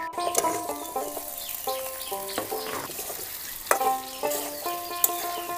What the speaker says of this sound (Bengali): আদাটা ভাজা হয়ে গিয়েছে, এবারে ভাজা সবজিগুলো দিয়ে দেব।